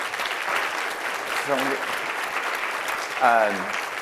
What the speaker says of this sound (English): please let's give this panel a round of applause